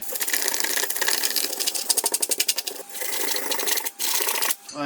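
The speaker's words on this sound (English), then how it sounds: "Right, instead of wire wool, we're going to use a wire brush on this." Wire brush scrubbing a rusty, jammed wrench during restoration: a steady, close, loud bristly rasping with a quick back-and-forth rhythm, continuous apart from brief pauses near the end.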